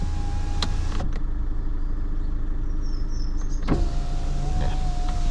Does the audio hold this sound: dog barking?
no